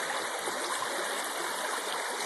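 Running water of a stream flowing over shale, a steady close rushing and trickling wash that stays even throughout with no voices.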